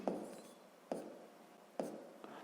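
Pen strokes on paper while working a sixth-grade maths exercise: three short scratchy taps spaced under a second apart, close and quiet, with faint scribbling between them and no talk.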